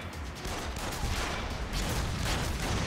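Dense bursts of SMG gunfire fill a fight in the Yakuza Kiwami video game, loud and continuous with rapid overlapping shots and no talk.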